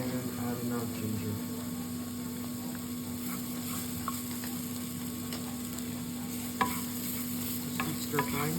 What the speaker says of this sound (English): Just keep stir frying.